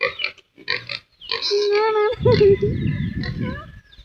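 Pigs on a farm grunt and squeal close by in repeated bursts, joined by a sustained high squeal midway, with a person speaking briefly alongside.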